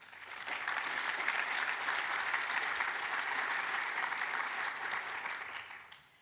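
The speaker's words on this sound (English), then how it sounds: "so a big applause" Sustained applause from a large audience at a European universities forum, a steady wash of clapping that holds loud for about six seconds before tapering off at the end.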